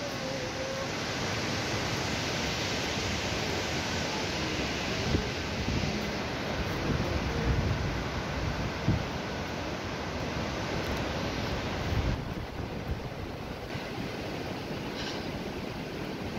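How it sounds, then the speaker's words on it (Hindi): Steady broadband rush of a small waterfall at Yamunotri, continuous and fairly loud, with no voices and little change throughout. "हाँ झरना गिर रहा है छोटा सा"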